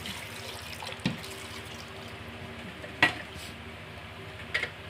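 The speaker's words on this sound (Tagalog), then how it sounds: "lalagyan natin siya ng tubig" Water runs into a pot for cooking chicken feet, a quiet continuous trickle with a few soft clunks and knocks at intervals.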